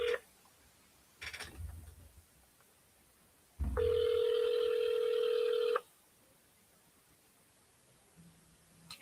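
A telephone call is placed: short touch-tone dialing beeps, then a long steady ringback tone of about two seconds, followed by quiet line hiss and a faint tone at the end. No one speaks.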